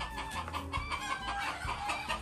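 Chickens cluck busily and continuously, with overlapping squawks and calls close by and fairly loud, no talk during the sound.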